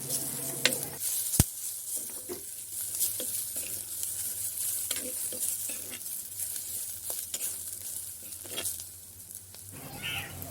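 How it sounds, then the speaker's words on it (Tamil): Curry leaves and other ingredients are sautéed in a pan for a spicy mussel stir-fry. A steady sizzle runs throughout with intermittent scraping stirs and one sharp metallic clink early on. "அதோட கொஞ்சம் கருவேப்பிலையும் சேர்த்துக்கொள்வோம் எல்லாத்தையும் போட்டு நல்லா வதக்கி எடுத்துக்கொள்வோம்"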